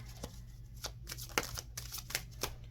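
Tarot cards are shuffled in a quiet room, a series of soft riffling flicks and taps in an irregular rhythm, close and faint, with no talking.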